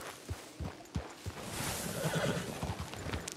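A horse in the video game Red Dead Redemption 2 gives a whinny over steady clip-clop hoofbeats, close and fairly loud, with game ambience underneath.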